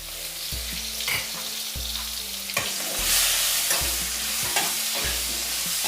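Potatoes frying in a pan with turmeric and salt, a steady loud sizzle broken by repeated scraping stirs, with no voices.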